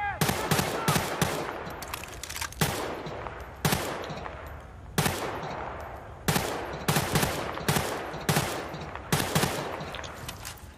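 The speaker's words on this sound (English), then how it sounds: "Shooting in the distance." Repeated bursts of gunfire in Battlefield Bad Company 2 squad deathmatch ring out in sharp clusters across the whole stretch, echoing off in the distance, with no voices over them.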